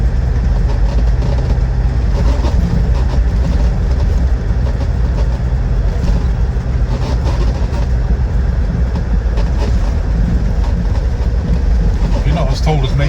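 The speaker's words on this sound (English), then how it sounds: "Into fifth. Very willing TD5 engine on it." A 2003 Land Rover Defender 90 TD5 diesel engine pulls steadily in fifth gear, a loud constant drone with road and suspension rumble inside the cabin.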